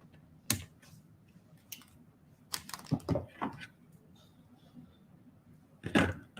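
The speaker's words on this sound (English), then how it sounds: "Let's trim off this wire." Cutters snip Soft Flex beading wire on a craft table, producing a few sharp, faint clicks spaced irregularly, with light handling rustles between them and no voices.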